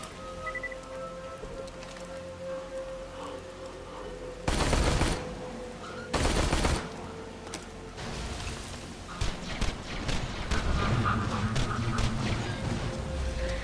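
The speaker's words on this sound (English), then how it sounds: "Whenever I'm using the Unkept Herald, I'm always trying to kind of aim lower at enemies." The Unkept Herald fires at enemies in Borderlands: The Handsome Collection, with two loud sustained bursts and a stretch of rapid crackling shots amid busy game noise.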